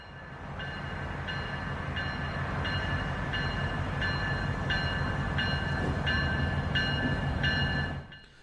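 A passenger train on a holiday run rumbles steadily, heard from on board. Faint rhythmic clicks repeat about every half second before the noise drops away at the end.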